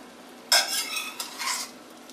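Lime-soaked cod flipped in a pan makes a sudden metallic scrape and clink, then a bright sizzle that swells, dips and swells again, close and moderately loud over a quiet background.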